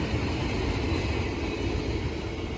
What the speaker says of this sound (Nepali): ल है रेलगाडी छुक छुक छुक छुक